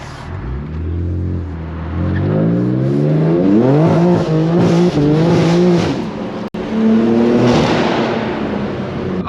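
An 830-horsepower sports car pulls hard through rising and shifting gears, engine note climbing repeatedly close and loud, with a brief cut near the end before the revs build again.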